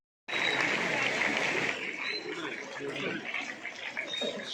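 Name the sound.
audience applause at award ceremony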